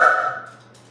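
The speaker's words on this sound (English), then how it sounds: "we got three dogs here, so they're going to be on the recording too" One dog in a house gives a single short bark that rings out and fades quickly, heard close with no talking over it.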